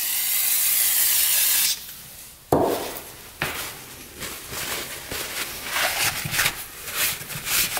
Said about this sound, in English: Spray this down with a little brake cleaner.